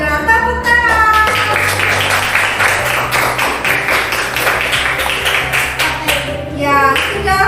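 An audience in a teacher-training classroom session claps hands: quick, busy clapping with some tapping, running for several seconds over a steady tonal musical background.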